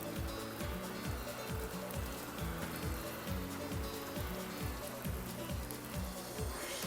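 Artificial rain sprayed onto a car windshield treated with water-repellent glass coating patters densely and steadily, with rhythmic wiper-like sweeps thumping through the constant loud hiss.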